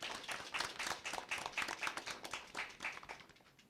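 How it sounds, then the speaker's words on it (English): A steady round of applause from an evening audience at an inter-secondary school debate, dense overlapping clapping throughout that eases slightly toward the end, with no talking. "Please give them a round of applause."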